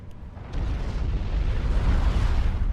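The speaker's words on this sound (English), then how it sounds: "Oh, Ronnie tried to power detonate there, but I did it a little bit too early or too late" In the strategy game Supreme Commander 2, a power detonation goes off as a deep, rumbling explosion that starts after a brief pause and sustains a heavy low roar for a couple of seconds.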